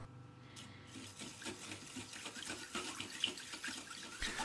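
Rice rinsed in water inside a small colander, stirred and shaken to mimic rinsing under a running tap; a steady close sloshing and trickling of water with small splashes runs throughout, no voices.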